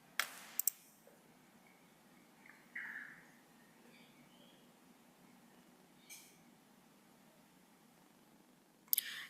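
Sparse, quiet computer mouse clicks in a calm room, a few sharp single and double clicks spaced seconds apart over faint background hiss.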